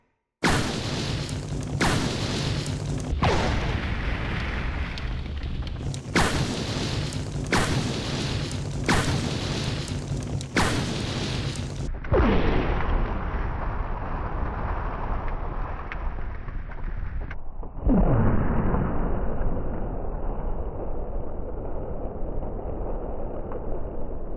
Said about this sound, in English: let's try napalm grenades